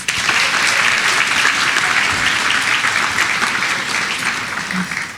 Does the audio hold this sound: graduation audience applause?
yes